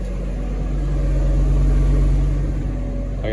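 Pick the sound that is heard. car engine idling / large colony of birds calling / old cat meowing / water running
car engine idling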